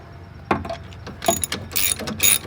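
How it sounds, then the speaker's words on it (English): A ratchet wrench cranks a bolt during serpentine belt replacement on a 2011 Hyundai Sonata, producing a few short bursts of fast clicking in uneven strokes, close and clear. "We're going to crank on this bolt."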